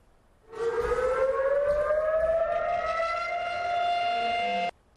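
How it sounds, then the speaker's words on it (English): A civil defense siren sounds in Israel on the October 7 anniversary, a single loud wail that rises steadily in pitch, holds for several seconds and cuts off abruptly. "A siren ringing out at around 6:29 in Israel to mark the hour when the Hamas-led militants launched rockets into Israel last year."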